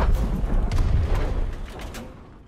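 An explosion goes off in the shooter video game Ring of Elysium as a barrel blows up, a loud booming burst with crackling debris that fades out over about two seconds.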